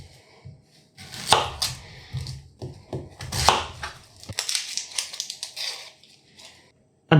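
Onions being chopped on a board for a Swedish cabbage pudding meat mixture: quick, uneven bursts of sharp knife strikes with brief pauses, close and fairly loud, with no talking.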